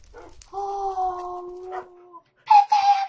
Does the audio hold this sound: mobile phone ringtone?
no